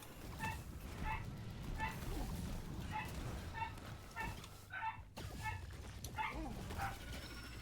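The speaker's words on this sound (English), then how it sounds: "I wish my dogs would not bark like every second of every day sometimes" Dogs yip and bark in a repeated, fairly regular rhythm, faint and distant beneath steady background noise, with a brief break partway through.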